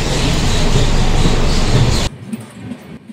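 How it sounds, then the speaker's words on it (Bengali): A 100-year-old train pulls out of Dhanbad Junction with a loud, steady roar of wheels and rails that drops off sharply near the end, leaving quieter rattling. "ট্রেন ধানবাদ জংশন ছেড়ে দিল।"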